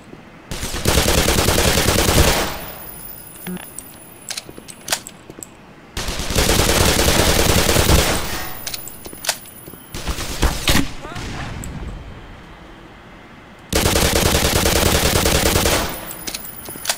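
A gun firing in the Black Mesa video game: three loud sustained bursts of rapid gunfire separated by quieter stretches with scattered single shots and clicks.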